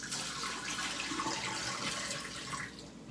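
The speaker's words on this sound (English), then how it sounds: "So you gotta put cold water to stop the heating process for the potatoes." Cold tap water runs steadily onto boiled potatoes in a kitchen, a soft continuous splashing hiss that wavers slightly and stays faint throughout.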